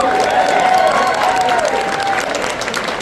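Steady applause from a crowd, dense clapping filling the whole stretch and tapering slightly toward the end, with a faint held tone underneath.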